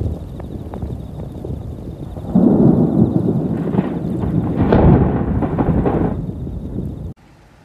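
Heavy thunder rumbles over very heavy rain during a severe storm on Japan's Sea of Japan coast, a loud sustained roll swelling midway and then cutting off abruptly near the end.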